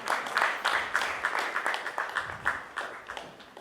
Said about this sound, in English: Let's give Mr. Ritesh a huge round of applause